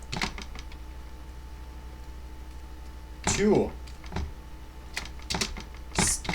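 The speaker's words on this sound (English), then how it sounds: "now we're gonna be typing H2" Keystrokes on a computer keyboard while HTML is typed into a text editor: sparse, close clicks and a few louder bursts over a low steady hum.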